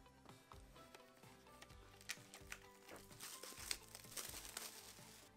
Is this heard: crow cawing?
no